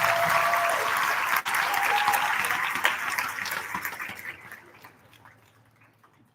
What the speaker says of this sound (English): Round of applause for Brian and his staff.